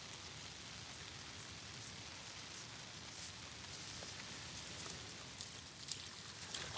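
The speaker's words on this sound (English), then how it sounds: "It's raining and MILAN'S taking his raincoat off" Steady rain falls outdoors on water while people fish, a constant soft hiss of drops with a few scattered louder splashes and taps near the end, faint and without talk.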